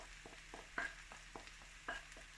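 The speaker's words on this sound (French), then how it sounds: "vous mettez les aubergines" Aubergines hit a hot pan and sizzle faintly, with soft scraping and stirring clicks repeating at a steady pace and a light hiss underneath.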